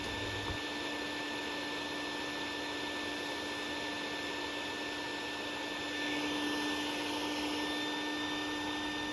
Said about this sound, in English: At this point here, I'm just trying to vacuum up the last of the ones coming back.